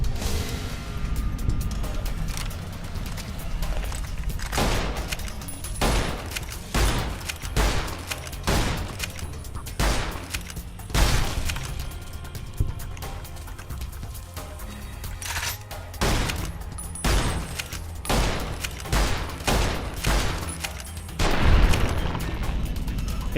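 Repeated gunshots from Fallout New Vegas, loud sharp cracks fired in irregular bursts with short pauses between, some rapid double shots, with booming impacts over a steady game background.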